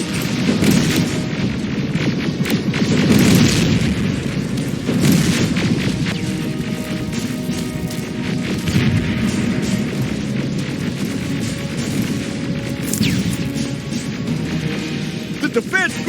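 Explosions smash the defense grid during a battle in Terminator Resistance, heavy booms and throbbing rumble forming a continuous loud din with crashes and gunfire bursts.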